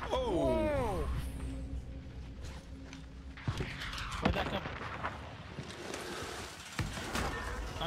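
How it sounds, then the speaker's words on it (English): Gunfire and mechanical effects in the video game Warzone, with a few sharp shots and metallic creaks, and a voice talking over the game sounds. "I'm getting shot from behind now too."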